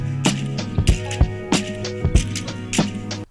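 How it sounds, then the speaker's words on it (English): A percussion loop sample plays back in Cubase: punchy drum hits and bright clicks in a quick repeating groove with a steady tonal hum underneath, clear and close, cutting off at the end. "So maybe I'll use this percussion loop here."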